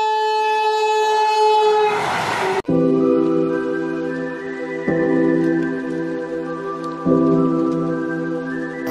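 Inside an empty coach of a moving passenger train, a loud horn blares for a couple of seconds, then a steady rolling rumble with periodic clunks carries on.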